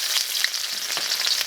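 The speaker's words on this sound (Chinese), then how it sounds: "姜蒜下锅" Ginger and garlic fry in hot oil in a wok, a close, bright continuous sizzle with small pops and crackles and a few stirring scrapes.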